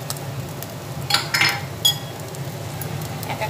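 Spoonfuls of masoor lentils go into a bowl for an egg dhoka recipe, making a few brief, close rattling clinks against a steady low background hum, with no talking.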